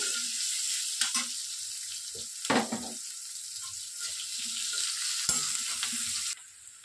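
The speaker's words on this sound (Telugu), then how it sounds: "ఇప్పుడు వీటిని కొద్దిగా గోల్డెన్ షేడ్ వచ్చేంత వరకు వేయించుకోవాలి" Small onion pieces fry in a pan toward golden for a cauliflower vepudu, a quiet steady sizzle punctuated by a few spoon knocks and scraping stirs, with no one speaking.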